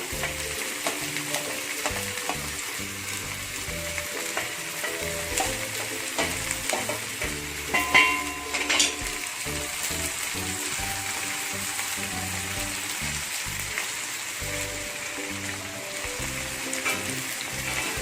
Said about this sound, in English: This is the same onion. We're going to cook till it is nice and brown.